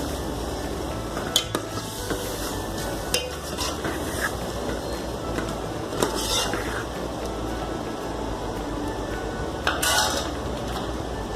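A spoon stirs powdered spices, tomato and ginger-garlic paste into egg masala gravy in a pan, soft continuous scraping with a few sharp metallic clinks against the pan over a faint sizzle.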